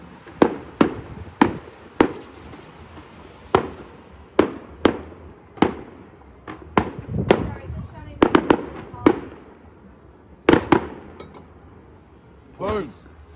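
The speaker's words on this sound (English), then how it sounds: "Some little poppers." New Year firecrackers and small fireworks pop in a scattered series of sharp, loud bangs over about a dozen seconds, with people talking and reacting between them.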